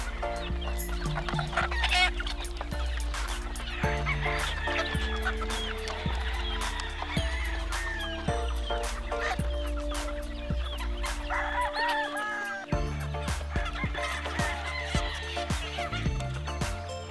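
Chickens cluck and a rooster crows on a farm, a lively mix of close clucking, squawks and crowing calls repeating throughout over a busy rural backdrop, with no talking.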